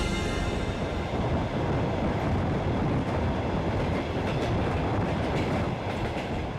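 A Trans-Siberian train running on its rails, with a steady, even rumble of wheels and carriages and faint rhythmic clacks, unbroken from start to finish.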